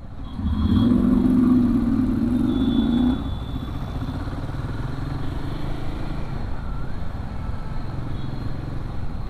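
A Royal Enfield Himalayan 450 motorcycle engine on a city ride hums steadily and fairly close, swelling louder for the first three seconds before easing to a constant lower drone.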